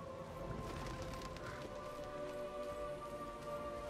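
Light rain in the video game Diablo 4, a steady hiss of falling drops pattering on surfaces, with faint tonal game ambience underneath and no talking.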